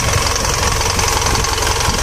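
An Isuzu 4JJ1 diesel engine, suffering from low power, idles steadily up close with a rhythmic clattering knock and deep rumbling vibration, loud and continuous with no talk.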